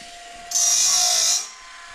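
Band saw blade sharpener running for a sawmill, a bright grinding hiss that swells for under a second over a steady low motor hum, then fades.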